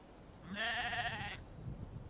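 A goat bleats once in the video game The Holyburn Witches, a single wavering cry of about a second over a bed of wind noise, with no talking during it.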